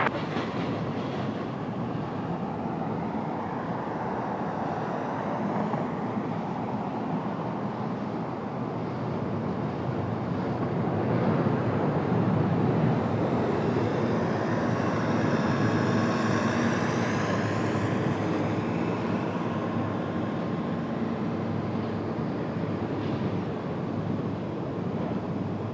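A United airliner takes off from runway 30 at Dallas, a steady broad roar that swells slightly toward the middle and holds loud throughout with no voices.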